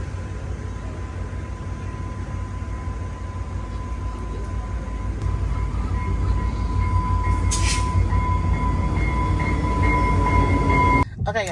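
A train rolls into a station on a rainy day with a loud, steady rumble and a sustained whine that swells as it nears, followed by a brief higher screech near the end.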